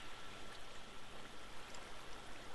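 Flowing water in the video game Minecraft, a steady, moderately quiet rushing stream sound with no talk over it.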